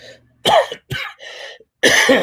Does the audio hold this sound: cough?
yes